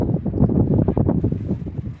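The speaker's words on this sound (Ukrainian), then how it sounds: "А вітер дме, а вітер дме з моря." Sea wind blowing in a steady, rough rumble with gusty buffeting against the microphone, loud and close, with no voices present.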